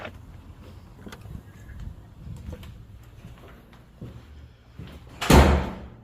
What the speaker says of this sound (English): Hold the door.